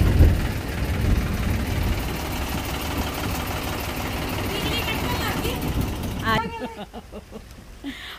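A tractor engine runs at a low, steady idle with a knocking rumble while a trolley is backed up, loud and close, under speech throughout, then the engine sound drops away near the end as voices continue.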